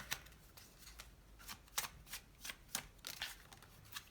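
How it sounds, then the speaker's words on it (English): Tarot cards are shuffled by hand close up, a quiet series of quick riffling and flicking bursts in uneven rhythm, alone without talk. "Okay, I'm gonna shuffle one more time and then I'm gonna grab a card."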